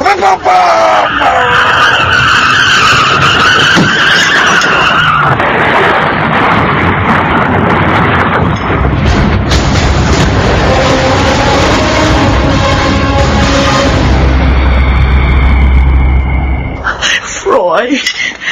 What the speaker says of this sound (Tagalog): May truck na biglang tumawid sa intersection! Mababangga ako!